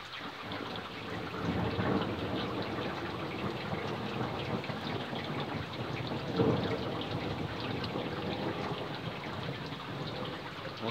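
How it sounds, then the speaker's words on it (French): A moderate summer thunderstorm over Montceau-les-Mines, approaching from the southwest, with steady rain and continuous low rolling thunder throughout and a louder rumble swelling near the middle; no voices. "c'est un orage modéré"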